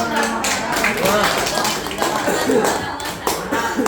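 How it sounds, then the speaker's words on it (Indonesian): A classroom of students applauds together, a dense, continuous patter of many hands clapping at moderate loudness with some voices mixed in. "Tepuk tangan dulu."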